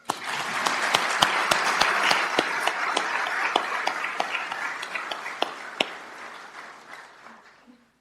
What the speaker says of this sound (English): We can give her applause.